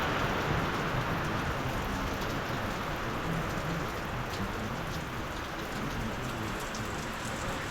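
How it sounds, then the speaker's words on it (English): Heavy pouring rain falls steadily outside a junkyard workshop, a dense, constant hiss of drops hitting surfaces at an even loudness throughout, with no voices. "it is flat pouring rain out there"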